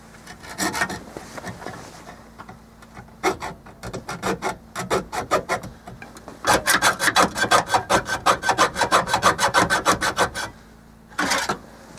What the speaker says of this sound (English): For today, my cutting tool of choice is a hacksaw